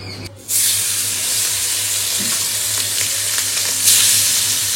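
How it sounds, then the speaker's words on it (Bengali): Marinated chicken hits hot oil with tempering spices for biryani and sets off a sudden, loud, continuous sizzle that holds steady with faint stirring clicks. "চিকেনটা এসে আমি ভালো করে মশলা মাখিয়ে রেখে দিয়েছিলাম ম্যারিনেট করে এখন এই যে কষে নেব একটু ফোড়নটা দিয়ে দিই"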